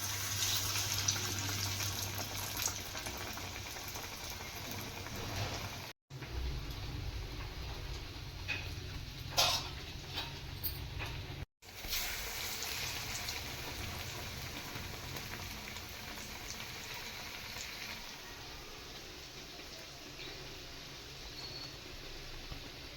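Black-eyed pea fritters (alasanda garelu) bubble in deep oil with a steady, dense crackling hiss that runs on continuously, close and fairly soft, with no voices.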